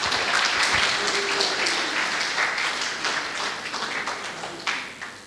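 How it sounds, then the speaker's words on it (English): An audience at a FAUX IMAGES XII talk bursts into lively, close clapping, with many sharp individual claps over a dense roar that gradually eases off across five seconds. "I love the clapping, you guys are so nice."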